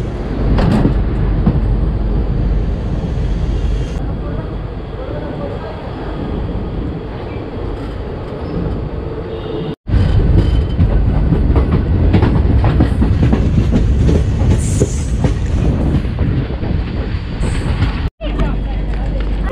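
Shaheed Express train running after leaving Siwan Junction, a loud continuous rumble with rhythmic clickety-clack of wheels on rails heard from inside, with someone talking over it.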